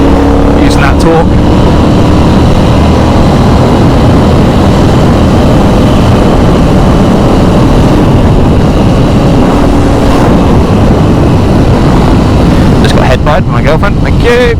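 KTM 790 Duke motorcycle engine pulling hard under acceleration, a loud, steady engine roar with wind rush sustained throughout, ending in a few sharp bursts.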